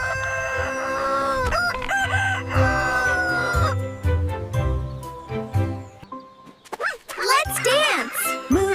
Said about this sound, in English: Cock-a-doodle-doo.